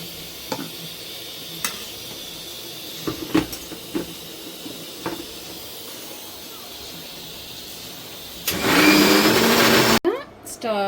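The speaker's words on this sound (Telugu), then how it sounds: "ఇలాగే ఉన్నదంతా మిక్సీ చేసుకోవాలన్నమాట" A few scattered kitchen clinks, then a loud mixer grinder blending cooked gongura leaves whirs to life in a harsh roaring burst before cutting off abruptly.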